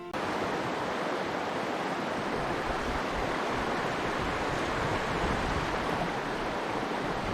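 Flowing water of the Savage River in Western Maryland makes a steady, broad rushing hiss, continuous and fairly close, with no voices.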